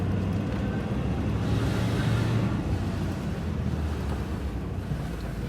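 A 1966 Cadillac Eldorado with a TH400 automatic stuck in first gear drives along, heard from inside as a steady broadband rumble mixed with heavy wind buffeting on the microphone and no speech.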